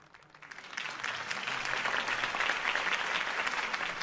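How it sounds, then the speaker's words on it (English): Crowd applause at a political campaign rally in the video game Batman The Telltale Series, swelling quickly from quiet into dense, sustained clapping that stays loud and steady to the end. "could have heard that applause"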